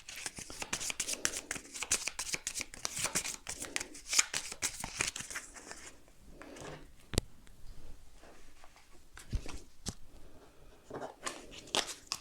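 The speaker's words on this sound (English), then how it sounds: "3 cards, so give it a shuffle." Close, crisp riffling of a small hand of cards being shuffled for the board game Undaunted: North Africa, in quick bursts, followed by quieter handling, soft taps and rustles.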